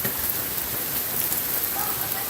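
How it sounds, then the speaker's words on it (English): Heavy rain pours down outdoors in a steady, dense hiss that fills the whole stretch without a break, loud and close, with no voices over it. "It's pouring down rain out this bitch."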